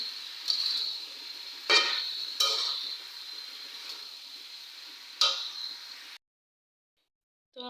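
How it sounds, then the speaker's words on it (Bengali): Curry sautéing in a pan gives a steady close sizzle, broken by several sharp scrapes and clinks of a spatula stirring against the pan. It stops abruptly into silence, followed by a brief final clink. "এখানে আমি তরকারিটা কষায় নিতেছি"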